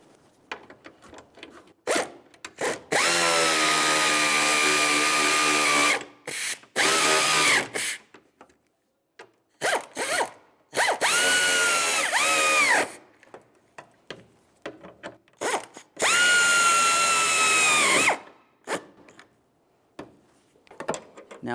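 A power drill snugs down hood hinge mounting bolts on a 2000-2006 Chevrolet Tahoe in three loud, close whirring bursts of a few seconds each, separated by quieter clicks and handling noises.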